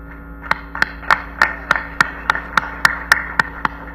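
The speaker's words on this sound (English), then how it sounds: "Let's give Edward a round of applause" A single pair of hands claps in a steady rhythm of about a dozen sharp, close claps, each evenly spaced and crisp, with a faint sustained tone underneath and no voices.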